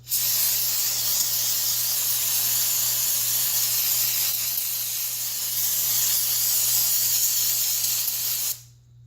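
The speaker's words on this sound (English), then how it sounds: "In any spray can that I've been using" A steady, forceful hiss of an aerosol spray can cleaning a bike shock linkage, continuous for several seconds at close range before cutting off abruptly.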